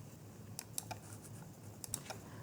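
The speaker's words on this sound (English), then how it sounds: "I can simply type plastic pollution into the search box" Keys tapped on a computer keyboard while entering a short search, two quick bursts of faint close clicks separated by a pause, with no voices.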